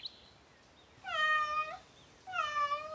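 A cat stuck up in a tree lets out two clear, drawn-out meows, close and distinct, with a short quiet gap between them.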